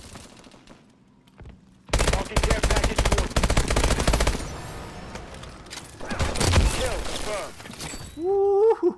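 Sustained, loud automatic gunfire in a video game, two long sprays of rapid shots separated by a short lull, with game effects around them and a voice briefly speaking.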